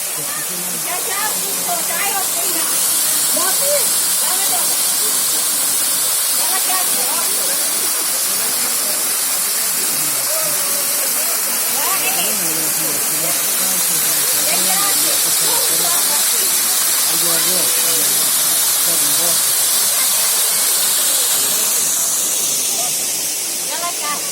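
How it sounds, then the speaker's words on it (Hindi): A water spring pours down from above at a pilgrimage site, a steady broad rushing splash that fills the whole scene at full loudness, with faint crowd voices mixed underneath. "ये पानी का चश्मा है जो ऊपर से बहरहाल जारी है"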